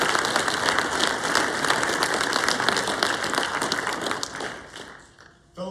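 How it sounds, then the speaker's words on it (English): An audience at a US Army aviation non-commissioned officer ceremony at Fort Novosel, Alabama, applauds the inductees, a loud, dense round of clapping that holds steady before tapering off near the end. "please join me in another round of applause for all the inductees that we have here today"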